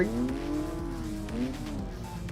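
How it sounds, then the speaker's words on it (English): A car brakes and skids on snow in the Assetto Corsa racing game, a continuous close tire squeal with engine drone that rises and falls over two seconds, no talk. "It's a lot harder to brake in the snow than it normally is."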